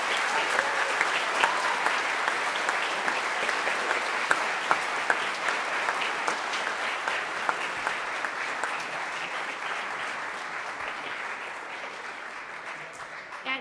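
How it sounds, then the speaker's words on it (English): Audience applause for veterans at a school district Veterans Day event: dense, sustained clapping from a sizable crowd, steady throughout and easing slightly near the end. "Let's give our veterans one more round of applause"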